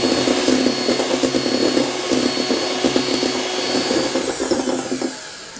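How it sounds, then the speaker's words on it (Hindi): Electric mixer beating egg whites for a chocolate Swiss roll, a loud continuous motor whine with fluttering pulses as the beaters work, close by and alone, easing off at the end. "सफ़ेदी को हम बीट कर लेंगे"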